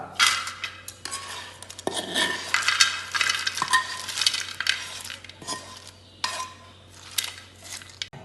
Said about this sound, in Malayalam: ഇപ്പം നമുക്ക് വറുത്ത് വന്ന മാങ്ങയെല്ലാം